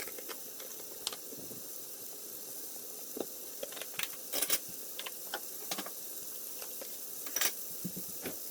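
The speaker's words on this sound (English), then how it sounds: "Let's fry them" Fresh wild lactarius mushrooms frying in a pan, a steady close sizzle and hiss with scattered pops and crackles, fairly quiet and heard alone without talk.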